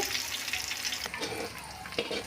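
Hot oil sizzles and crackles steadily as spices are tempered for urad dal chutney, a continuous close hiss with small pops and no talking.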